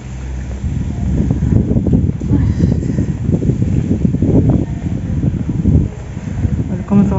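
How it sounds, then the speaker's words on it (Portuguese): Gusty wind rumbles and buffets the microphone steadily throughout in Gramado, Rio Grande do Sul, at 9 degrees Celsius, with a person talking underneath. "Se o vento deixar, eu vou aqui por dentro pra me proteger do vento."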